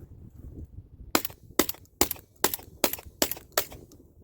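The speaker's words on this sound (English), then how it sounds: "So I loaded all of them in the gun here. Let's see how she does." A Panzer EG200 shotgun fires seven loud, sharp shots in quick succession after a quiet lead-in, each blast crisp and close, spaced about half a second apart as the gun cycles.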